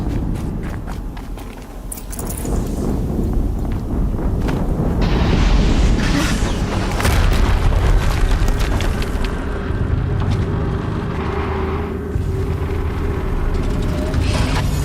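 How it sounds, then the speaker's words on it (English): Explosions and rumbling booms in the video game Horizon Zero Dawn, a loud, dense low roar lasting throughout with a sharp burst near the start and a second surge midway, over wind-like noise. "Another explosion."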